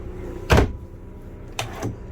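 Adjustable drawers in a two-way cupboard in the bedroom of a 2018 Thor Vegas 27.7 Class A RV slide and thump twice, a single sharp bump followed by a longer double-scrape closing movement, close and moderately loud.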